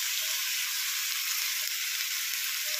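Red chili powder tipped into hot oil while cooking a North Karnataka-style brinjal curry, giving a steady, close hiss of frying that holds evenly throughout with no voices.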